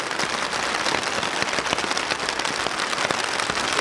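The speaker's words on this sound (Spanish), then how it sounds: "como llueve tan duro y cae muy duro aquí en la carpa, ya la tengo empapada, suena muy duro" Heavy rain drumming hard on a tent on a Colombian mountain, a dense, steady patter of drops close overhead with no voices.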